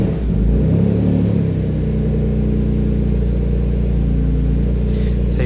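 A twin-turbo Ford Capri engine fast idles rich and warm in a steady, loud low rumble, with a slight hunt early on settling into an even drone.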